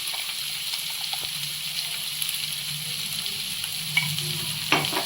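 Ivy gourd pieces frying with salt and turmeric in a pan sizzle steadily while being stirred, with a few soft scrapes and clinks of a spatula, close and continuous.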